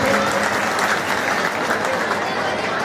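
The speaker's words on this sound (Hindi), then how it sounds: "एक बार तालियों से इसका उत्साहवर्धन करें सभी लोग।" A crowd claps in sustained, dense applause, loud and steady throughout, with some voices mixed in.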